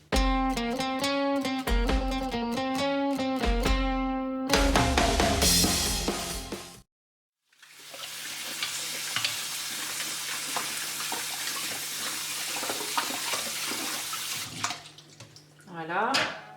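Running water and scrubbing as a serrated plastic part of a Versapers Pearl 2G is cleaned with dish soap and rinsed under a tap, with a person talking over it.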